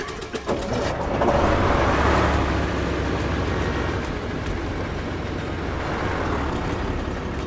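An old truck's engine runs in an online survival video game after it gets a new battery. A steady, loud, low rumble idles and revs slightly, with a brief clunk at the start.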